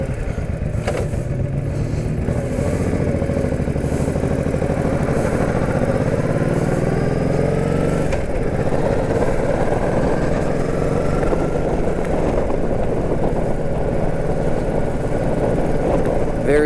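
A Honda Shadow 1100 cruiser motorcycle engine pulls steadily under light throttle while being ridden, a constant close rumble with rising tones over road and wind noise.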